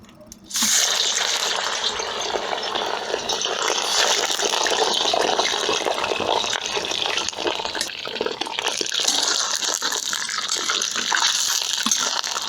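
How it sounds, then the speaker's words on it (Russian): Beef on the bone drops into hot oil in a kazan for plov and sets off an abrupt, loud, continuous hissing sizzle that carries on steadily to the end. "Теперь первым делом отправляем мясо, которое на кости."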